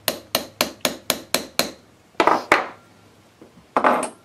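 A small hammer taps a tube rivet to flare it in jewelry making: seven quick, evenly spaced metallic taps, then a few heavier, sparser strikes, close and crisp, with no talking.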